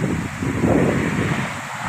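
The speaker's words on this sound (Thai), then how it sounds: "ลมกันแรงแรงครับ" Strong wind gusts across a rice field beside a rural road, a steady, loud, broadband rush that swells and eases without pause for the whole stretch, with no voices.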